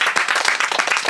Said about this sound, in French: Je pense qu'on peut tous t'applaudir.